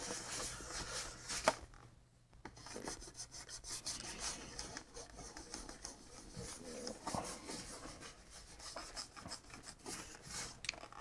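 Dirt being rubbed off a vintage cardboard product box, a soft continuous scratchy rasping with quick back-and-forth strokes, close and fairly quiet, no voices.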